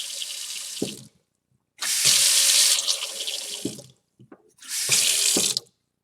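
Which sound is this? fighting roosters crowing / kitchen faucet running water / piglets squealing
kitchen faucet running water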